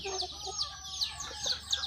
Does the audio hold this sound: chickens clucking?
yes